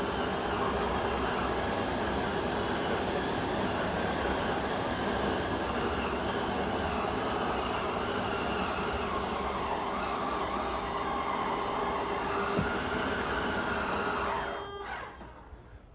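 Wardrobe slide-out on a 2022 Keystone Cougar Half-Ton 23MLS travel trailer extending, a steady loud electric motor drone and mechanical rumble running for about fourteen seconds before stopping abruptly, with no talking.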